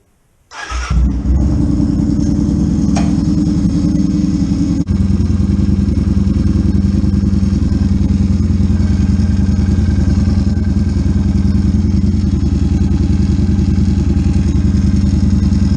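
A repaired Kawasaki Vulcan motorcycle engine cranks and fires up on its first startup, then settles into a steady, loud idle with a low rumbling throb that continues throughout.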